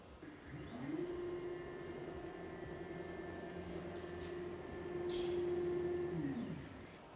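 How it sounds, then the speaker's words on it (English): A CNC router gantry beam is jogged up the bench under manual control, a steady motor whine that ramps up, holds for several seconds with a faint rise, then winds down. "I'm going to use the manual move function again on the Pro app and just walk the beam up"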